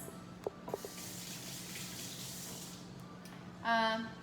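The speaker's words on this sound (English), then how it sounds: "so let me wash my hands" A kitchen tap runs in a steady, soft hiss during handwashing, with a few light knocks early on and a brief louder gush near the end.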